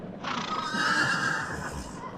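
Horses pulling carts give a loud, drawn-out neigh close by, with faint clip-clop of hooves underneath.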